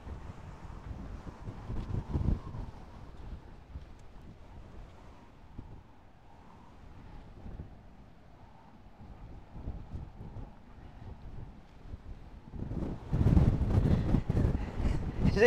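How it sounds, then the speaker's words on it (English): Gusty wind on a hilltop buffets the microphone in low rumbling bursts, easing off in the middle and picking up strongly again near the end. "it's a bit blowy up here"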